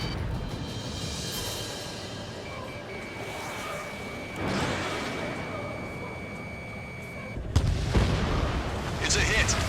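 Missile explosions in the Ace Combat 7 flight combat game, deep rumbling booms over a constant roaring jet-engine drone, with a heavy blast near the end.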